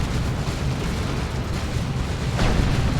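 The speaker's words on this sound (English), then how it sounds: "Plasma cannon." A plasma cannon fires in the video game Dawn of War 2 amid a dense, continuous rumble of battle explosions and booms, with a sharper burst near the end.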